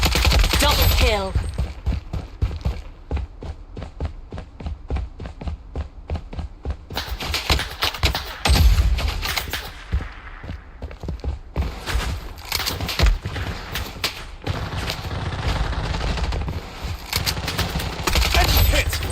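Sustained rapid gunfire from the video game Fallen City Brawl, dense machine-gun-like bursts running nearly continuously, loud and close, with a brief lull midway before the shooting picks up again.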